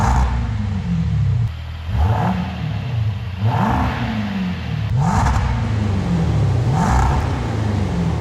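A Jaguar F-Type V8 with an aftermarket sport exhaust, valves shut, revving repeatedly in close rhythmic blips, each rise and fall clearly separated, loud and alone.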